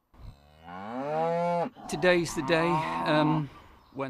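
Cattle on a farm lowing loudly and close by, one long drawn-out moo followed by a second, more broken call, then a brief start of another.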